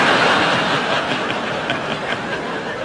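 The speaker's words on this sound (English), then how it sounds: "Should we just wait till this train's gone past?" A train rolls past close by, a steady broad rush of wheels and carriage noise that fades slightly over a few seconds, with faint rhythmic clatter on the rails.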